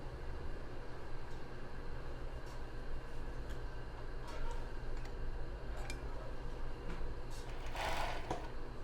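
A sewing machine stitches a crossed-base bra, a close, continuous mechanical rattle with fast ticking needle strokes running the whole time.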